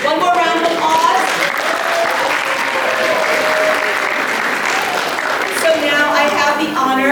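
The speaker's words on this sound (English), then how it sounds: "Okay, one more round of applause." A crowd claps steadily and loudly, sustained applause filling the room with a few voices rising over it.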